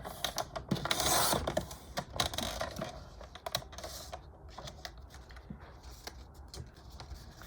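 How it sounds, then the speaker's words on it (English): Scissors cut diagonally across an index card, a close series of crisp snips and paper rustles with a louder crunch near the start, then lighter irregular clicks and handling noises at low volume. "we are gonna be cutting the 2 other index cards in diagonal"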